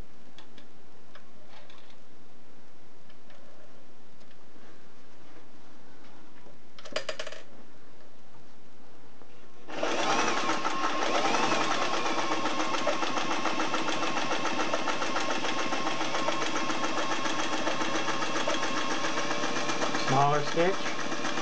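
A Singer 503A slant-needle zigzag sewing machine runs steadily through thick denim about 2.5 millimetres thick. A loud, continuous mechanical whir starts partway through after quieter handling noise and holds to the end.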